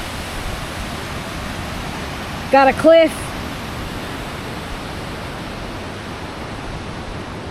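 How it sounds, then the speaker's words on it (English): Steady broadband rush of a waterfall along an uphill Alaska mountain trail, constant and enveloping, with a short burst of a voice speaking briefly partway through. "Wow, the waterfall is stunning."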